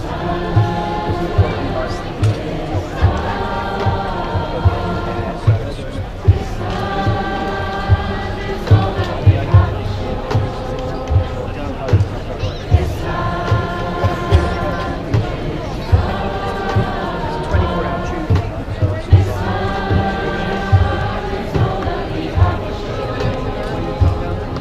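An Extinction Rebellion protest crowd sings together outdoors, many voices holding sustained melodic lines over steady thumping drum beats, with loud crowd noise throughout.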